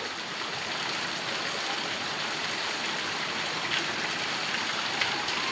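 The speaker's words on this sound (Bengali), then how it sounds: "বৃষ্টি আরো বেশি করে নামা শুরু হইলো।" Heavy rain pours down without pause as a dense, even hiss, loud and close, with nothing else standing out.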